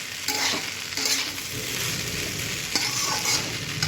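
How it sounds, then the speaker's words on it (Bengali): Fried egg being stirred into homemade pasta in a hot pan, a steady sizzle with a few scraping stirs of the spatula, close and continuous with no talking. "এবার আমি যে ডিমটা ফ্রাই করে রেখেছিলাম সেটা দিয়ে দিচ্ছি, দিয়ে এবার এটাকে ডিমটাকে মিক্স করে দিলাম।"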